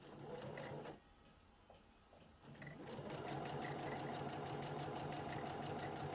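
A sewing machine stitches fabric under the presser foot while sewing a tiered skirt, running in a fast rhythmic whir, briefly stopping and slowing before resuming a steady, quiet run.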